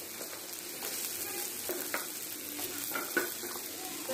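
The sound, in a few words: cut potatoes frying in mustard oil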